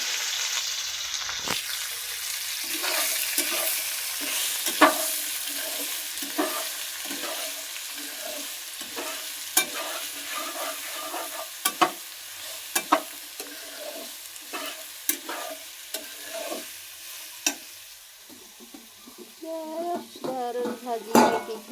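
Potatoes and fish fry and get stirred in a pan after turmeric goes in, with steady sizzling under repeated scraping strokes of a spoon against the pan, speeding up into quick clattering stirs near the end.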